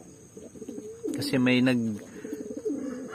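Racing pigeons coo in a soft, throaty, rising-and-falling call from close by, while a person talks quietly in the background.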